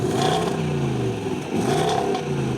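A V8 engine revs hard and steadily, dipping briefly midway before climbing again, loud and close with a throaty growl.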